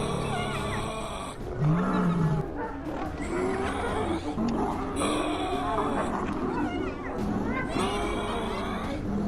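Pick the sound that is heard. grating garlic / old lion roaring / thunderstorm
old lion roaring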